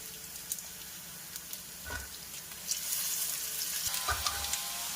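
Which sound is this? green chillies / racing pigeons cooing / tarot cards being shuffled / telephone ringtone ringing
green chillies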